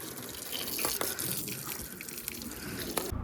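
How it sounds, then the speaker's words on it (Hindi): Water splashes and trickles steadily as a car is rinsed down, a continuous close wash of running water with scattered drips and splats. "बस थोड़ी सी वॉश कर रहा हूँ पानी से"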